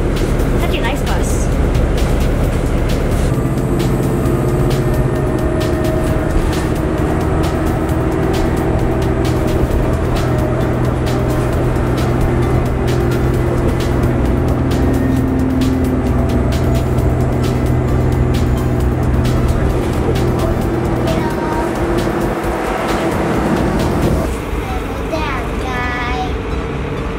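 Interior of a moving bus heading home, with a steady low engine rumble and road noise throughout, voices talking over it near the end.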